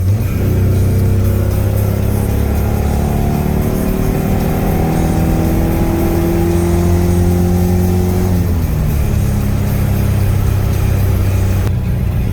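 A Nissan S13 under restoration pulls hard in third gear, the engine note climbing steadily in pitch for several seconds before easing off, loud and close from inside the car with no talk.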